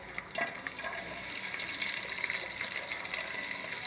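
Two big onions fry in a pan as the first step of a biryani, giving a steady, fairly loud sizzle with light stirring, close up and continuous, with no talk.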